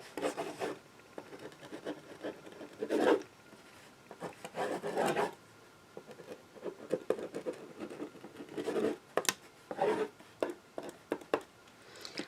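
A heavy fine point pen scratches across a surface in short bursts of writing strokes, close and fairly quiet, with pauses between strokes.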